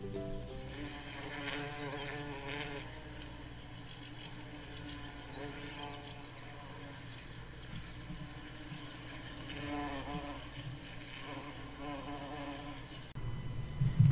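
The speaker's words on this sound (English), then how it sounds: "Yeah, so that's a bumblebee." A bumblebee buzzes steadily outdoors, its drone rising and falling in pitch as it moves near and away, with faint background noise and a brief louder burst near the end.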